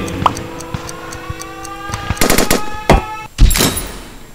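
A few sharp gunshots in the Henry Stickmin game, sparse ticking clicks leading into a cluster of loud cracks and a final heavy blast, with no talking.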